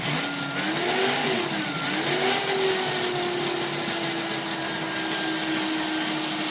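A drift kart engine runs close by, its tone rising and dipping through a couple of quick revs before settling into a steady, even drone.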